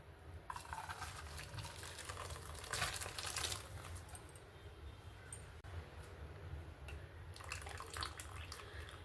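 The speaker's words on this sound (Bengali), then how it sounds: "এই চিকেন আর জলটাকে ভালো করে ছেঁকে নেব" Chicken broth poured through a strainer into a bowl, a soft continuous trickle and splash of liquid with brief louder gushes, fairly quiet and heard without voices.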